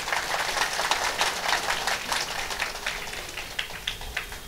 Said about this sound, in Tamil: அவங்களுக்கு ஒரு கைத்தட்டு விண்ண முற்ற அளவுக்கு கொடுங்க சார்